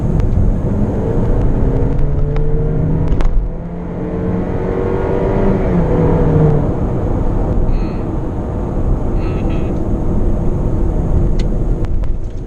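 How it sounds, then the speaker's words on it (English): A 2018 Honda CR-V 1.5 turbo with AWD and a CVT gearbox drones and whines steadily from inside the cabin under hard acceleration, with a rising engine note that holds for several seconds before easing off. "the car does go, but you need to put up with the way the CVT screams in protest in terms of how you're accelerating it"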